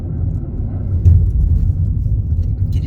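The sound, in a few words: car passing by on the road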